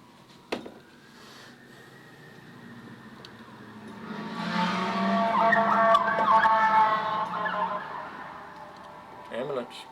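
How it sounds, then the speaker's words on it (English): An ambulance siren wails, growing louder as it approaches and then fading, over quiet background noise with a brief voice. "Ambulance."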